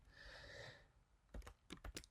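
Computer keyboard typing of code: a few crisp clicks and taps in the second half, following a stretch of hissy background.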